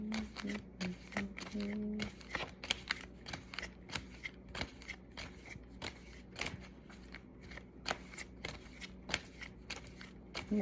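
Tarot cards shuffled and handled close up, a quiet run of crisp riffling, snapping and papery clicks in quick irregular bursts, with soft speech intermittently beneath.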